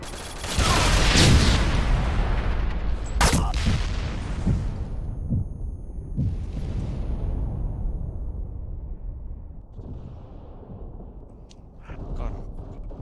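A grenade bursts loudly up close in the shooter game Ghost Recon Online on the Korolyov Towers map, followed by scattered gunshots and a fading rumble, with players' voices now and then.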